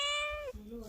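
A cat gives a single close meow in a village setting, a clear tonal cry that drops in pitch partway through, with no talk over it.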